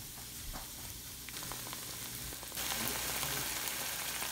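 Crawdads stir-fried in a pan with garlic and oyster sauce, a faint steady sizzle with light scraping stirs that jumps to a louder, denser frying hiss partway through, with no talking.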